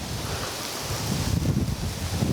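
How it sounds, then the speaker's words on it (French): Steady wind blows outdoors during a giant real-life Cluedo game, a loud continuous rushing roar with low buffeting gusts against the microphone and no voices. "Il y a du vent, là?"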